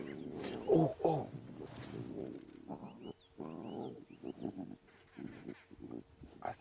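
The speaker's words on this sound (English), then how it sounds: "Difficult to hear of all the noise the cubs are making." Lion cubs call noisily while feeding aggressively at a kill on a Sabi Sand safari, a run of close, overlapping growls and moans that rise and fall continuously, with a few brief bird-like chirps in the background.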